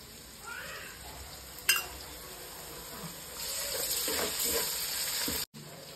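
Ginger paste sizzling in hot oil while chicken curry is cooked, a steady frying hiss with a few sharp spatters that grows louder midway and cuts off suddenly near the end.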